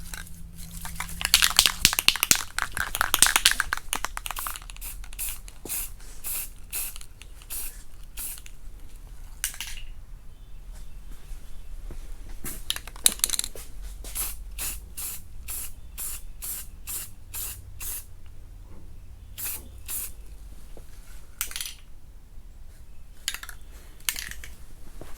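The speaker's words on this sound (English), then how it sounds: "I was just gonna use this self-etching primer at the spray can" A spray can of self-etching primer, used in painting a car, hisses in a long burst, then sprays in many short, regular puffs, close by with faint clicks and no speech.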